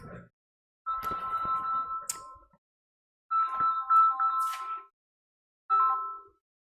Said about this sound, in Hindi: देख रहा हूं फोन आ रहा है किसी का